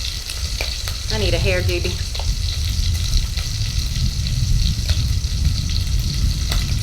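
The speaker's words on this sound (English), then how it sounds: "Cooking outside and cooking bacon and the wind's blowing?" Bacon frying on an outdoor cooker in gusty wind, a steady loud sizzle and crackle running throughout with wind rumble underneath, while someone briefly speaks over it.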